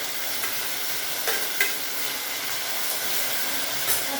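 Capsicum and onion fry in a hot pan with browned chana dal, a steady close sizzling hiss with occasional soft stirring scrapes and no talking.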